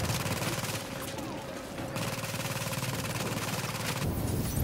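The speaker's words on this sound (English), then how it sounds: "That's the shooting turret" A video game shooting turret firing continuously, a fast, steady mechanical rattle of shots that runs throughout with little pause, loud and close.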